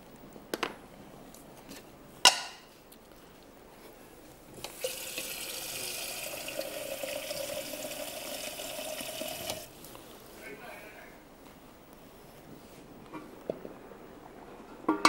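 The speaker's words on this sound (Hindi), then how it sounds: "इसमें मैं पानी डाल रही हूँ, पानी डाल के मैं थोड़ा सा इसको पकाऊंगी" Water poured into a cooking pot while preparing Hyderabadi dum ke roat, a steady splashing stream lasting several seconds between a few sharp clinks, fairly quiet in a kitchen.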